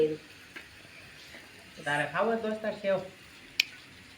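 Puri frying in hot oil, a soft crackling sizzle that swells for about a second in the middle, quiet and close, with a sharp tick near the end.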